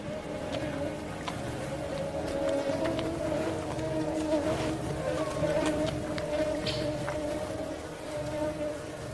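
Biting insects swarm around a brown bear foraging in the far north, a dense, steady buzzing and whining of many wings close by that holds without a break throughout.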